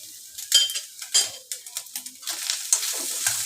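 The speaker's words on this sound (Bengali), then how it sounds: "একটু নেড়ে নেবো।" Chicken samosa filling being stirred in a pan with garam masala and Maggi masala, a series of close scraping, clattering spoon strokes over a light sizzle, with no talking.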